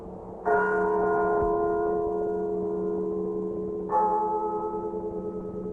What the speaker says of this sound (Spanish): me despertó a no sé qué hora, el doble de las campanas.